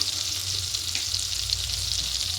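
Whole garam masala, cinnamon, cardamom, cloves and cumin seeds sizzling in hot oil for a vegetarian potato paneer curry: a steady, close frying hiss that carries on without a break.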